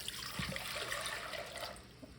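Four cups of water poured into a big cooking pot, a continuous splashing gush at close range that tapers off near the end, with no talk.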